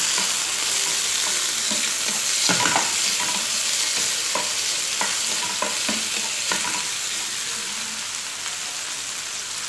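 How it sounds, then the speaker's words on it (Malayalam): Chicken pieces sauté in hot oil for a creamy white-sauce pasta, a steady loud sizzle throughout with scattered scraping stirs and clicks of a utensil against the pan, no voices. "അതിലേക്ക് ചിക്കൻ്റെ പീസസ് ചേർത്ത് കൊടുക്കുക. ചിക്കൻ്റെ പീസസ് ചേർത്ത് കൊടുത്ത് അതൊന്ന് സോട്ട് ചെയ്യുക നന്നായിട്ട്."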